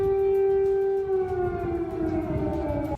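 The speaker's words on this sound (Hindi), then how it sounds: "वहां एक बार फिर सायरन की आवाज गूंजने लगी" Air raid siren wailing over Kyiv during an air alert, one loud, sustained tone that slowly falls in pitch before it cuts off abruptly at the end.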